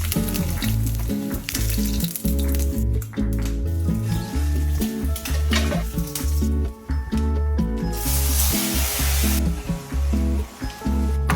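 Eggs and tapa frying in a pan for breakfast, a steady loud sizzle that runs the whole time beneath a strong, tonal, music-like layer.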